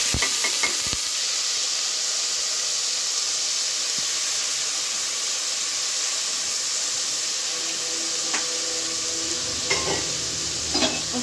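Chopped onions and cumin seeds sizzle steadily in a hot pan, a constant close frying hiss broken by a few light stirring clinks near the start and toward the end.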